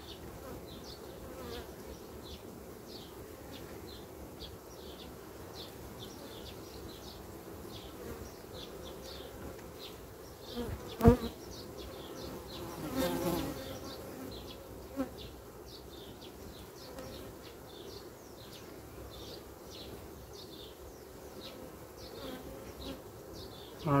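Honeybees swarm and buzz steadily around an open hive frame lifted during a hive inspection, a dense continuous drone close to the microphone with a few brief handling knocks and no speech.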